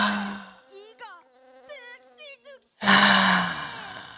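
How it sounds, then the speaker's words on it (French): Houseflies buzz close by in wavering, pitch-sliding whines that weave around each other, framed by short bursts of noisy rustle at the start and end. "Il y a des insectes partout, des mouches."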